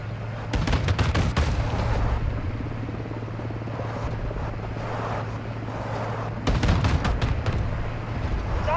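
Two rapid bursts of heavy APC gunfire in Call of Duty: Modern Warfare II, one early and one later, over a constant low mechanical hum.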